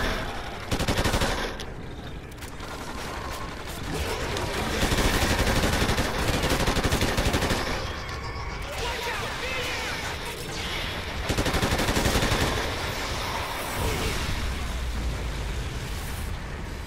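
Rapid gunfire in the video game Call of Duty Ghosts, sustained automatic bursts and single shots almost continuously for seventeen seconds, loud and dense, with brief pauses between volleys.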